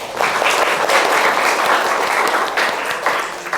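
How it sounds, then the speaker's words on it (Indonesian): A classroom group claps together in sustained, dense applause for several seconds, loud and close, fading slightly at the end. "Dikasih aplaus."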